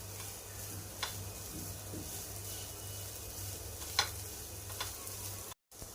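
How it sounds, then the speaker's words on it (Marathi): Kurdai sticks sautéing in a pan with turmeric and coriander, a faint, steady sizzle with a few soft stirring scrapes, heard alone. "आणि फक्त आपल्याला 2 मिनिटे परतून घ्यायचं आहे।"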